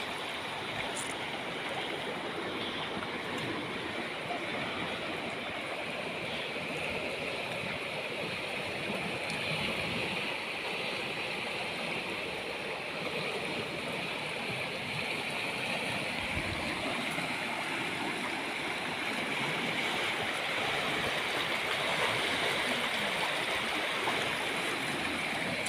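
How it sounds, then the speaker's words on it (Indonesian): Muddy floodwater from an overflowing river rushes through a village in Empat Lawang, a steady, dense roar of flowing water that stays loud and unbroken throughout, with no voices. "Air keruh aliran sungai lah sama rata dengan rumah penduduk"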